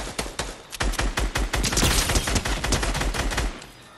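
Rapid bursts of automatic gunfire in a Fortnite duos match, loud and dense, with shots rattling in quick succession for about three and a half seconds before tapering off.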